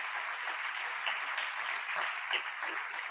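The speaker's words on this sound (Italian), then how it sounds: "vi chiedo un applauso di accoglienza" An audience applauds steadily to welcome a guest at an Italian talk event, a continuous moderate clapping from the room with no voices over it.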